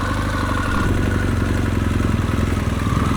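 An adventure motorcycle pulls away after a rolling mount, its mid-pitched engine a steady, loud, close drone with a rapid pulsing beat, heard alone with no voices.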